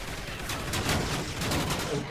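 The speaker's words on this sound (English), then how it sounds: "He set up a machine gun to automatically shoot at me." Automatic machine-gun fire in Call of Duty Ghosts multiplayer team deathmatch, a rapid rattling burst of rounds that continues for about two seconds, loud and dense.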